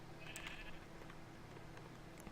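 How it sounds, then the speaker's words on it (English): Sheep in the Minecraft video game, a single short bleat near the start, thin and clear over a steady low background hum, followed by quiet. "Sheep."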